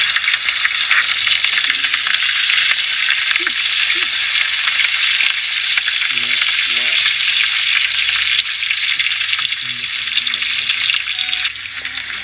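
Curry leaves and green chillies fry in a pan of hot oil for an egg curry, a loud continuous sizzle and crackle with occasional stirring rattles throughout.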